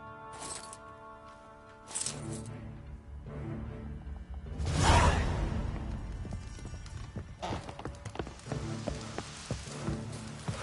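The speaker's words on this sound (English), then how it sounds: "And it's raining again." Rain falling in the video game The Witcher 3, a steady broadband patter under a layered game soundscape with horse hoof clip-clops and background music, swelling briefly louder midway and continuing without speech.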